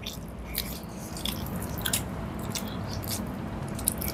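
Close-up eating of rice with pomfret fish in mustard gravy, wet squishy chewing and soft bites repeating steadily, no speech.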